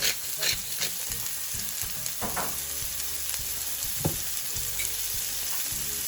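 Prawns stir-frying over high heat, a steady loud sizzle close up with irregular bursts of spitting and scraping as they are tossed in the pan, no voices.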